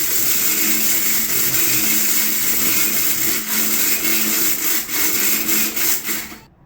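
Mixer grinder grinding homemade masala, a loud continuous whirring drone with rhythmic pulses toward the end before it cuts off abruptly, close up and alone.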